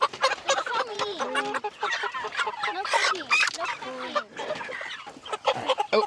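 Several chickens cluck and squawk close by in a busy, overlapping chorus, with occasional sharper honking calls and some faint voices mixed in.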